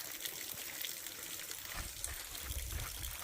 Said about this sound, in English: that water is coming out pretty fast